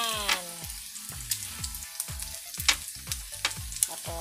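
Onions sautéing in a pan for pancit bihon, a soft sizzle under rhythmic scraping and clinking strokes of a stirring utensil, close and fairly quiet, with no talking.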